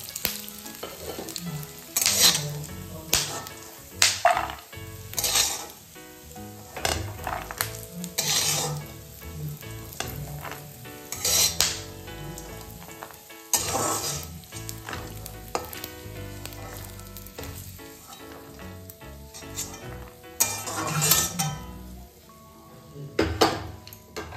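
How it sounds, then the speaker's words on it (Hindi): Grated coconut and almonds fry lightly in a pan, a soft continuous sizzle broken by repeated scraping and clinking strokes of a utensil stirring against the metal pan. "नड़िया बादाम हल्का भाजी काढ़ी आनिबा"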